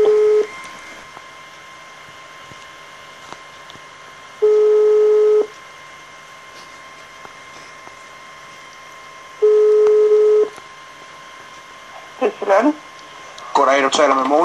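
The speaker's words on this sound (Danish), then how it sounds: "Så den ringer automatisk til nummeret op." Phone line tones over a Skype call, with three steady one-second bursts spaced about five seconds apart as the number is dialed automatically, followed by brief voice-like warbles near the end.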